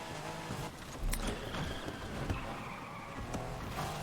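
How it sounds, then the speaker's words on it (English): Porsche 911 GTS performing a micro drift around a corner in Need for Speed, with engine noise, a brief tire squeal and a scuffing skid bursting in over a steady background of road and car sound. "There we go, a little micro drift there."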